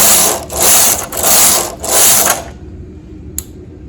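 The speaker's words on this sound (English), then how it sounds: "We're going to knit 6 rows on hold." Knitting machine carriage drawn across rows with sewing thread, three loud rhythmic ratcheting sweeps close by, then a quiet pause broken by a single click.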